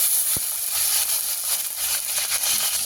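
Chopped tomato dropped into hot oil tempered with bay leaf and five-spice seeds, producing a continuous close sizzle and hiss. A sharp knock comes near the start, followed by faint crackles. No one speaks.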